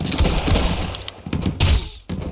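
Rapid bursts of gunfire in the pirate survival video game Sunkenland, loud close volleys of shots and thuds with short gaps between them.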